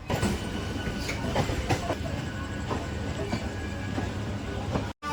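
Kandari Express, train 22897 from Howrah to Digha, rolling along after leaving Howrah with a steady rumble and rhythmic wheel clatter on the rails, heard from inside the coach through a short sudden dropout near the end.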